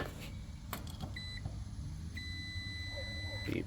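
A multimeter on continuity setting beeps as fuses in an air conditioning unit are tested: two sustained electronic tones, one short and one longer, over a steady background hum.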